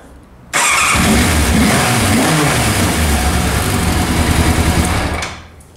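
A repaired moped's small engine runs loud and steady close by, a buzzing drone that starts abruptly and holds for about five seconds before fading out.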